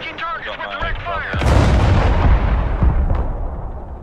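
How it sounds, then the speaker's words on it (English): Missiles launch from a position in the Broken Arrow war game with a loud, deep boom and rolling blast that decays over a few seconds, preceded by a brief radio voice. "Firing missiles at this position."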